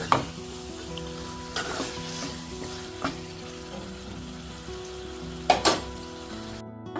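Mutton cooks in oil in a pan, with drumstick pieces about to join it, giving a quiet, steady sizzle broken by a few sharp scrapes and clinks from stirring, close up and without speech.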